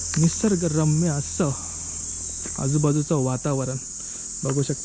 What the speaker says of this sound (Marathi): रातकिड्यांचा आवाज बघा, तुम्हाला ऐकू येत असेल.